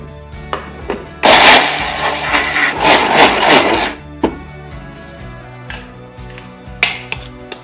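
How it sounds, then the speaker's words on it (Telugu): A mixie grinds roasted poha into a fine powder for laddu, a loud whirring burst lasting a few seconds, with shorter pulses and clicks before and after. "మనం ఇవి మిక్సీలో వేసుకొని పౌడర్ చేసుకుంటాం"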